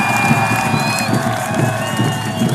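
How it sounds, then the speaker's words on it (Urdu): Loud crowd cheering and applause at the opening ceremony of a South Punjab schools hockey league, a dense steady roar with whoops and shouts throughout. "تالیوں میں سمیع اللہ خان صاحب فلائنگ ہارس"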